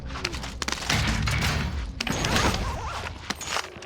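Incoming gunfire in Call of Duty Warzone, a burst of sharp cracks and thuds at close range with dense rattling bursts and booms, loud and chaotic throughout.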